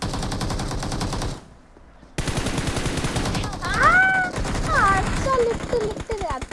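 Sustained automatic gunfire from BGMI (PUBG Mobile) rattles in close, dense bursts, broken by a brief pause before resuming. Players' voices call out over the shooting.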